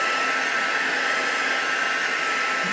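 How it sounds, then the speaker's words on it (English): Crafting heat tool blowing hot air to dry a card, a constant close, loud whooshing hiss of the fan and air stream with no pauses. "So you can let these air dry naturally, or you can use your heat tool."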